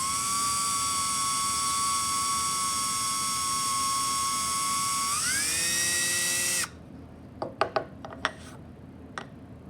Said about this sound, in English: we're actually going to be using this drill to drill a hole, okay, into the piece of wood